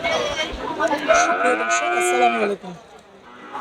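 A Holstein Friesian bull calf tied in a row at a cattle market lets out one loud, drawn-out moo lasting a few seconds close by, followed by quieter market background.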